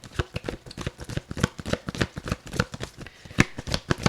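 Tarot cards shuffled in a steady, rapid run of crisp riffling flutters and soft slaps, close and fairly loud, with no voices over them.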